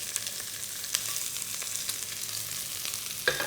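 Onions frying on high heat in a wok, giving a steady, fairly quiet hiss with a few faint clicks and one sharper knock near the end.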